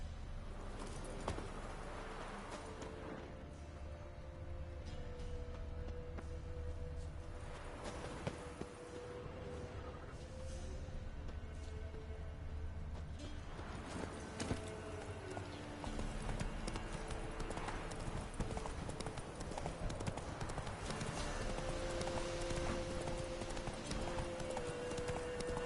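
Horse hooves clip-clop steadily at a walking pace as Geralt rides his mare Roach through the world of The Witcher 3: Wild Hunt, with ambient game music and environmental sound continuing underneath.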